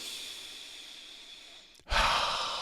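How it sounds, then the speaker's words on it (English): A person draws a deep breath: a long, soft airy exhale tapers off, a brief pause follows, then a sudden fuller, louder inhalation, close and alone. "It only takes a minute or two when you take a deep breath."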